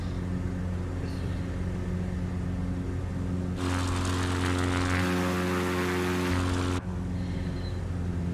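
A propeller airplane drones through flight after a steep 160-knot dive, its engine a steady near hum with a louder, brighter roar swelling in the middle and then dropping back, with no talk.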